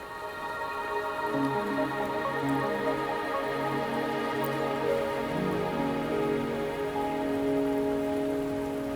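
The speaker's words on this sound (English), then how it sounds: "Are you trapped here by the rain?" Steady rain falls in the video game Wuthering Waves, a constant close hiss of drops on surfaces layered under sustained tonal game music, with no speech.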